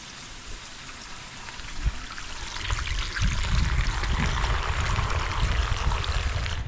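Water is poured into a cooking pot, filling it about halfway for boiling corn, a steady splashing pour that builds and continues throughout.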